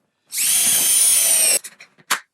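A power drill drives screws into a wooden jig for cutting castle joints in a woodshop. One loud, steady whir runs for just over a second, then a few short rattles and clicks follow with a brief sharp knock.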